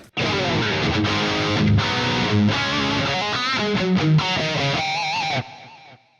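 A distorted electric guitar with stereo delay and reverb plays a melodic phrase, with echoing repeats and a roomy reverb tail ringing out after the notes stop.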